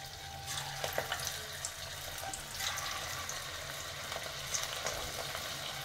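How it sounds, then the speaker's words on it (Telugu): Cauliflower pakodi fry in a pan of hot oil, giving a steady, dense, close crackling sizzle that runs throughout with small bubbling bursts and no voices. "అన్ని ఇట్లా వేసుకొని కాల్చుకోవాలి"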